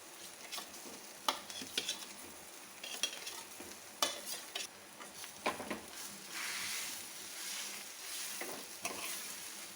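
Spiced potato stuffing for bread pakoda, seasoned with cumin powder and black pepper, stirred in a pan with irregular spoon scrapes and clatters over a soft continuous sizzle, close by with no talking.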